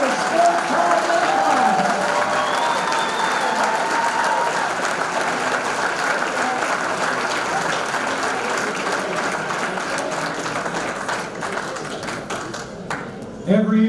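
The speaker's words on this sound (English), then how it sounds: "how about another big round of applause for the 2023 St. Joseph Area Sports Hall of Fame" Large banquet crowd at the 2023 St. Joseph Area Sports Hall of Fame ceremony giving a long, loud round of applause that fades slightly before a brief burst near the end.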